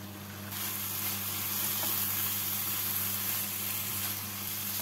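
Carrot sandesh mixture cooks over a medium gas flame with a steady close sizzle and hiss. It swells up after a brief quieter start, with faint stirring under it and no talk.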